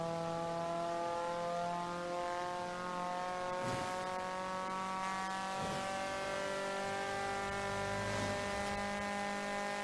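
Honda Prelude SI engine in Forza Horizon 4 revving through gears, a sustained harmonic engine tone holding steady with a few brief shifts, continuous and clear with no talking.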